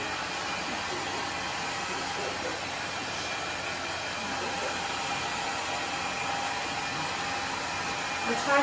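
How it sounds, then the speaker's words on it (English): A blow dryer roars steadily and loudly throughout while drying Rusty, a dog freshly bathed at home, with a slight surge near the end. "we're going to dry him with the blow dryer"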